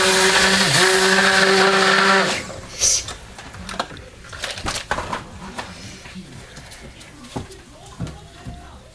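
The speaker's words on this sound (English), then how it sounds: "My stick blender's had a pretty heavy workout today." A stick blender mixes Aleppo soap batter with a loud buzzing whir for about two seconds, then stops, followed by scattered clunks and handling noises.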